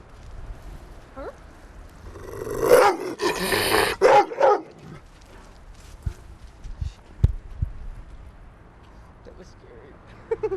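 Dogs bark outdoors beside a musicians' club, a loud cluster of barks and yips in the middle, then sparser scattered barks, with people talking nearby.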